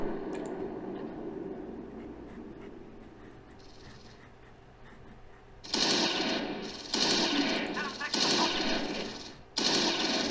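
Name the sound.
gunfire from the Close Combat 4 video game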